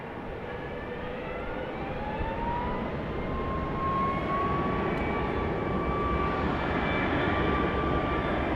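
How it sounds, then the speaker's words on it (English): Airliner arriving from New Orleans at Dallas Love Field at night, a sustained jet roar with a whining engine tone that slowly bends in pitch, growing a little louder as it nears, alone with no speech. "So here comes the flight from New Orleans."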